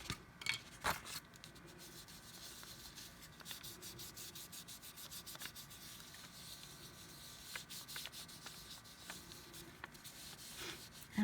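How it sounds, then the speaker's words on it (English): A small polymer clay pendant is burnished by hand, giving soft, close rubbing strokes in a fairly even rhythm with occasional faint taps, quiet and alone. "now I just want to give it another quick little burnish"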